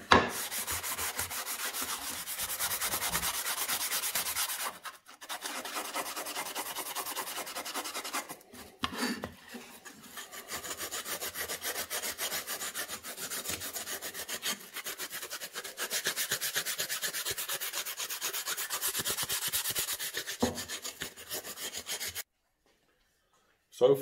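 Steady scratchy rubbing of sandpaper on blackwood hardwood, continuous and close, with brief pauses around a few strokes before stopping near the end.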